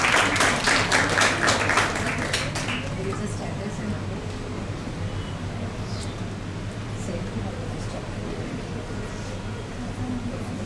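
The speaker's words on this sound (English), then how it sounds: "welcome ma'am also with a big round of applause" An audience at an orientation session claps to welcome a speaker, with a loud burst that fades over about two seconds into murmuring room noise and low voices.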